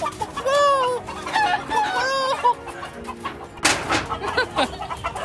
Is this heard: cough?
no